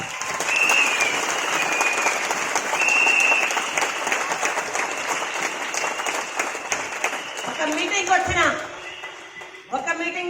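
Loud, dense applause from an audience at a speech event, sustained clapping filling the whole stretch with a few cheers and voices rising near the end.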